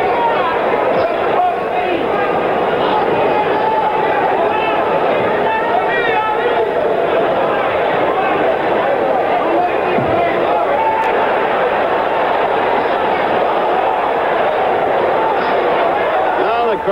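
Boxing crowd at Ali versus Alfredo Evangelista heavyweight championship fight, a loud, steady murmur and clamor of many voices expressing displeasure, with a commentator talking over the noise.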